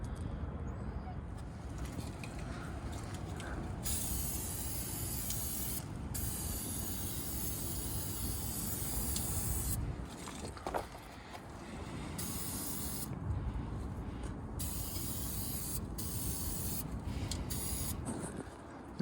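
Rust treatment coating sprayed onto the frame of a 1996 OBS truck outdoors, a steady continuous aerosol hiss lasting most of the stretch, with brief pauses and light handling noise between passes.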